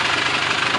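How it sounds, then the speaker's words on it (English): A Polaris 400L ATV engine runs at a steady idle, a continuous broadband rumble with no gaps, loud and close. "I'm just going to start it up."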